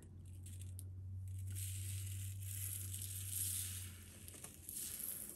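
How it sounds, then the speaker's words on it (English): Glitter pushed around on a sheet of glass while making a DIY glitter dry-erase board gives a steady, gritty, crunchy hiss lasting several seconds over a low hum, with no talking. "just move the glitter around"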